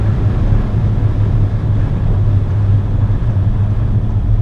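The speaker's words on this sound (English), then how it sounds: "Going 200 now, I really have strong wind noises, but slowing down again." Strong, steady roaring wind noise with a low engine drone inside a 2016 VW Tiguan 2.0 TSI 180hp cruising at about 200 km/h, loud and continuous throughout.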